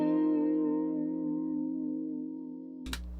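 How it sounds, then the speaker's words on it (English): A sustained harmonic tone processed through a tri-star chorus effect plugin, ringing steadily with a shimmering, layered quality and slowly fading, then cut off by a short sharp click near the end. "Right now we're using the chorus effect."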